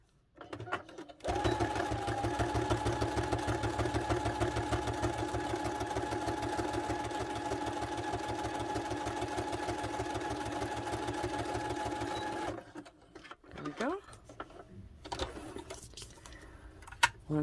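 A sewing machine runs a zigzag stitch on a paper-craft pocket project, a fast steady mechanical clatter for about eleven seconds, followed by quieter handling noises and clicks.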